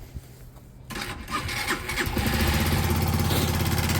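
A Yamaha YBR 125 motorcycle cranks and fires up, a brief starter whir giving way to a loud, steady single-cylinder idle close by.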